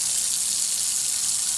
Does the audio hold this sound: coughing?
no